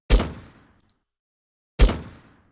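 Two punchy, close gunfire-like hits for a redesigned Doom chaingun effect, each a hard bang with a short decaying tail. They come about 1.7 seconds apart with silence in between.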